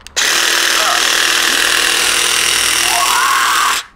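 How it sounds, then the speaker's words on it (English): A jigsaw is used as a muscle massager, its loud, steady buzzing motor running close up for about four seconds and then cutting off abruptly. "You take a jigsaw and you attack muscles with it."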